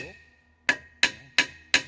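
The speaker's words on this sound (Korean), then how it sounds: "견고하게 두드려서 베어링을 자, 끼웁니다" Four sharp metallic hammer taps, evenly spaced and close by, drive a bearing and cover into an EM-2430 elevator hoist motor during a bearing replacement.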